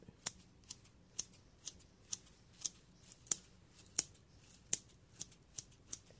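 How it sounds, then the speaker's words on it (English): Scissors snip through fresh parsley over a kitchen bowl in a regular rhythm of about a dozen crisp, close cuts, quiet and alone with no talking. "I like to just use scissors when I do parsley. I just snip, snip, snip, usually just into the pot."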